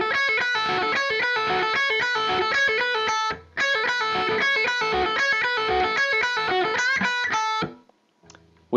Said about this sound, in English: Now the second guitar part is up a third